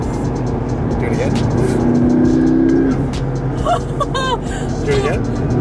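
A supercar engine rumbles loudly, revving up and then easing off, with people talking over it inside the car.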